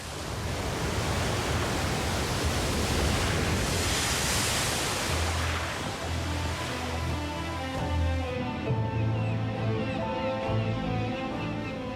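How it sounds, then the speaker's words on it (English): Rough North Sea waves around Helgoland, a loud continuous hiss and roar of surf and spray with churning low water sounds, steady throughout; a low musical drone enters in the second half. "Amidst blustering waves, the island of Helgoland rises up from the sea."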